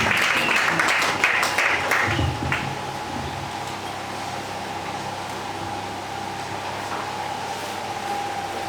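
Applause from mourners at a funeral service, a steady wash of clapping for the first two seconds that then fades into low, hissy room tone with a faint hum.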